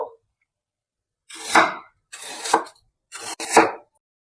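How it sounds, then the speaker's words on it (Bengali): An onion is cut into thin slices with a knife, heard as three separate rasping, crisp slicing strokes about a second apart, close and clear, with silence between the cuts and no voices. "পেঁয়াজটাও খুব সরু সরু করে কেটে নেব"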